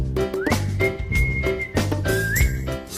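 Whistled imitation of nightingale song in a Latvian pop song: bright gliding whistle phrases ride over a steady beat, bass and backing music.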